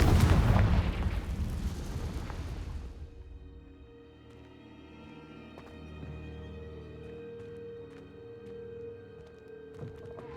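A loud Confringo blast spell erupts in Hogwarts Legacy, a heavy booming explosion that fades after a few seconds into a quiet tonal game ambience with a few faint clicks.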